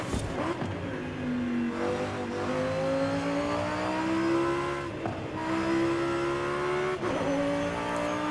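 An SUV tuned into a race car in Forza Horizon, its engine loud and close, revving up through several gears with clear shifts and rising pitch between them, alone without talk.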